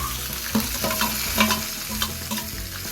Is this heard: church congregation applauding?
no